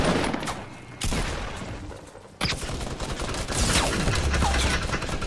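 Minigun fire in the Fortnite video game comes in loud, dense bursts of rapid shots with brief cut-offs between them, and faint voices sound under the game noise.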